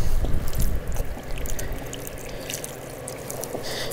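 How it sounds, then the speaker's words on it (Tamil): Water poured over desert rock bearing fossil rudist shells gives a rough, broadband splashing hiss. It is loudest at first and settles into a steadier wash under low rumbling background noise. "இங்கேயும் நான் தண்ணி ஊற்றினா தான்"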